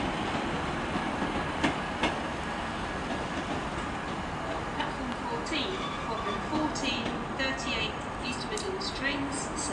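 A train rumbles through Manchester Piccadilly station with steady rolling wheel noise, faint clicks and some high squeals toward the end, while a voice talks over it.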